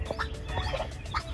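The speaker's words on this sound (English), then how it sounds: "We've got a turkey hen sitting on her eggs." A broody turkey hen sitting on her eggs gives soft, low gobbling and clucking calls, a few short irregular bursts close by amid steady barnyard background noise.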